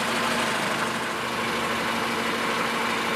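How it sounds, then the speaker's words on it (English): A 2015 Toyota Venza engine idles steadily and close by with a constant low hum and broadband noise while being run through its gears, the level holding even throughout with no voices. "we're gonna go ahead and start it up. Go ahead and run it through the gears"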